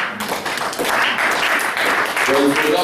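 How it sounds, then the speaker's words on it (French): Church congregation applauding the brothers at a French-language Christmas sermon, a dense steady wash of clapping with a voice speaking over it. "acclamation encore pour les frères"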